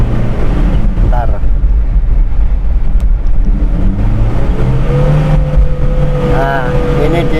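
Toyota Kijang Super 5K carbureted engine accelerating hard in second gear, a loud continuous droning roar with rising tones as revs climb, heard from inside with wind noise and someone talking over it.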